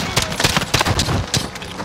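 Rapid bursts of gunfire in the Modern Warfare campaign, sharp loud shots cracking in an uneven rhythm of close and distant reports, with no talking.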